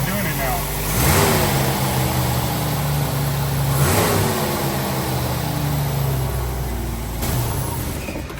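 A previously clattering car engine now runs smoothly, revving up and down a few times over a steady idle, loud and close with talk over it.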